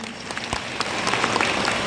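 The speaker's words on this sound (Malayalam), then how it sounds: "നല്ലൊരു കയ്യടി അന്നെ." An audience at a live event bursts into applause, a dense patter of clapping that builds and holds steady at close range.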